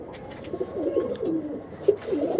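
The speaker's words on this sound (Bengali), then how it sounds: "অরিজিনাল খরগোশ চোখের পায়রা।" Rabbit-eye pigeons coo in a steady run of soft, throaty calls, repeated at close range over faint background noise with no talking.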